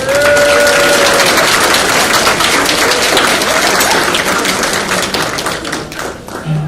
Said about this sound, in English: if we give them a nice round of applause